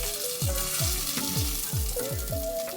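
Shrimp frying in a pan for shrimp scampi, a steady close sizzle with rhythmic stirring scrapes repeating about twice a second throughout, no talking.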